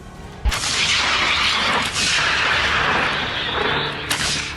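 Artillery fire, sharp booming blasts with one heavy report near the start and another near the end, over a continuous loud rumbling roar, with no voices.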